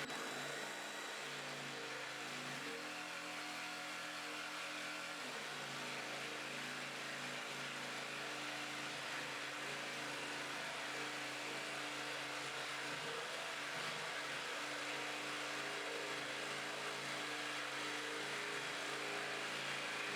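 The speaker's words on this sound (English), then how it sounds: "For cutting this worktop I have set it to the first pendulum setting." A jigsaw fitted with a fine-toothed blade on its first pendulum setting cuts through a veneered kitchen worktop while a sink or hob opening is made. The motor buzzes steadily and close by for the whole stretch, with no talking.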